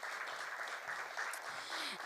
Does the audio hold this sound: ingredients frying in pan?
no